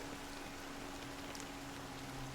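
Steady rain falling in a continuous hiss, with a low steady hum running beneath it and no voices.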